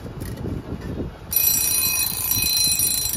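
A 90-year-old German-made mechanical alarm clock bursts into a loud, continuous metallic bell ring partway through, after a stretch of low background rumble, ringing steadily to the end.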